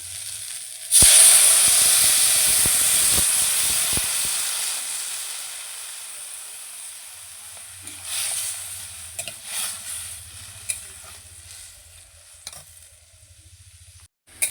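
Water poured into a hot pan of spiced rohu fish curry with kochur loti and fried chilli powder, bursting into a loud sharp sizzle and hiss that slowly fades into quieter bubbling and a few clinks.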